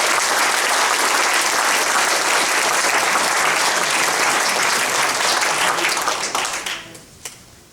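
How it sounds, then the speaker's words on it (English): A crowd at a college athletic Hall of Fame ceremony gives a long, loud round of applause for an inductee, dense clapping that fades out near the end. "How about a big round of applause for the Yuba City Yuba College Athletic Hall of Fame inductee"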